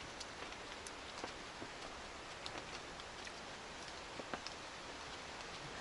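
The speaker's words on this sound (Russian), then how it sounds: "и сегодня опять дождь." Light rain falls outdoors at a construction site for a clay-and-straw building, a soft steady patter with scattered individual drops ticking on surfaces, quiet and continuous.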